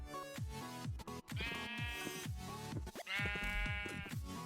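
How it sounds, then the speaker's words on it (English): Repeated sheep bleats in the modded Minecraft pack All the Mods 10 Lite over a busy musical backdrop, several short nasal cries in quick succession, loud and close, with game-like tones layered throughout. "let's go get these sheep over here"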